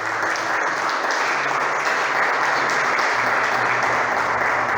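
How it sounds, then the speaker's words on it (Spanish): Sustained applause from a church congregation during a Spanish-language Sunday morning service, a dense steady wash of clapping at even loudness from start to finish with no one speaking. "¿Puedes darle un aplauso al Señor en esta mañana?"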